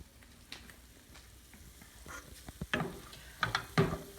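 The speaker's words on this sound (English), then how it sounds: "I'm going to let this cook and get completely browned up" Ground bison meat sizzles softly as it browns in a pan, a low steady crackle broken by a few sharper pops and scraping taps toward the end, with no one talking.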